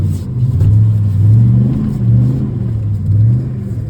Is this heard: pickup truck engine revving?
yes